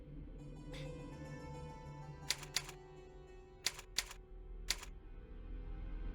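Typewriter keys strike in the Nancy Drew: Curse of Blackmoor Manor video game: a few sharp, isolated clacks and a quick double tap stand out over a steady droning game soundtrack, with no talking.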